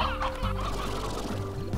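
Briar hens from the video game Slime Rancher cluck in a quick, close, busy run of chicken-like calls, brief and moderately loud with no talking over them.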